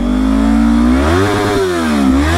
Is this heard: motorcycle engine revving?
yes